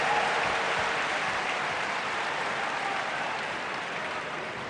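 A crowd at a Sampras versus Federer tennis exhibition match in Macao applauds in a dense, steady patter of clapping that gradually fades slightly, with no clear talk.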